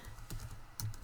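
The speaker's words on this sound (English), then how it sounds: "So I'm going to type in" Typing on a computer keyboard while using PFAFF creative 1.5 embroidery design software: a short run of close, crisp key taps with two clustered bursts, no voices.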